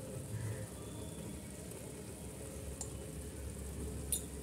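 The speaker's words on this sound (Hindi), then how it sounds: "डाल के मसालों को अच्छे से लो फ्लेम पे भून लें" Fennel seeds, garam masala and grated dry coconut frying in a pan over a low flame for chicken biryani, a steady soft sizzle throughout with a faint clink near the end.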